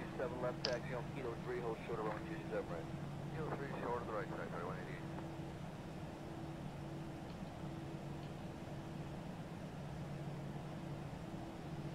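Aircraft engines idle before shutdown, a steady low drone with a persistent tonal hum, while people talk over it during the first half and the engine noise continues alone afterward.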